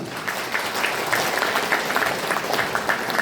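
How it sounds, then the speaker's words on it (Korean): Audience applause at a Korean cultural unification institute's thanksgiving worship and seminar, welcoming a speaker to the stage: steady, fairly dense clapping filling the room, close and even, with no talk. "심찬 박수로 모시겠습니다."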